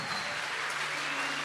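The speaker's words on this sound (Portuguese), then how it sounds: "Dá um aplauso ao Senhor bem forte." Church congregation clapping for the Lord, a short, fairly faint wash of applause heard alone.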